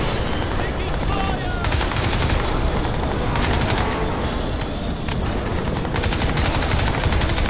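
Bursts of rapid automatic gunfire in the shooter game Crysis 2, loud and sustained in several volleys across the clip, with a dense din of combat beneath.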